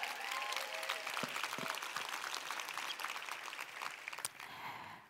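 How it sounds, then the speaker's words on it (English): Audience applause at a conference gathering, steady dense clapping from a large crowd that fades near the end, heard at a moderate distance with no talk over it. "Yes, you can clap it up."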